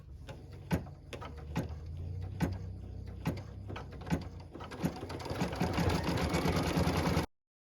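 A sewing machine stitches a tack-down line on a quilt block with steady mechanical whirring and periodic sharp clicks, growing louder and denser toward the end before stopping abruptly.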